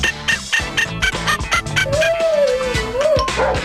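A Poochie interactive robot toy dog giving electronic yips and barks, then a rising and falling synthetic singing tone over repeated bark sounds, loud and close.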